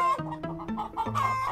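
Chickens cluck in quick, choppy bursts in the Roblox game Totally Roblox Battle Simulator, a few birds calling over each other up close, with no talking.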